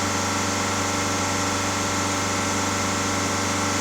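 A VW Golf 1.6 TDI diesel engine runs steadily at about 2900 rpm, a loud, even mechanical drone with a constant low hum and rattle, heard alone.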